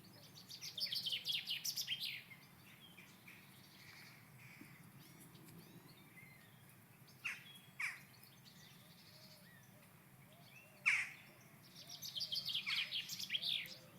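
Woodland birdsong from blackcaps and chaffinches: a bright warbling phrase at the start, a long quiet gap with a few short calls, then another burst of song at the end, all fairly faint and distant.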